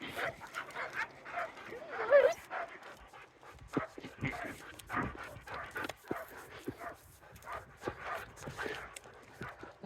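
A pack of dogs on a walk pants and barks close by, with yips and whimpers mixed into an irregular stream of huffs and short barks, and a person speaks briefly now and then.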